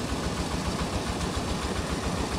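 A deep-well water pump motor runs with a steady, dense mechanical drone and a low pulsing hum. It is close, loud and continuous, with no other sounds.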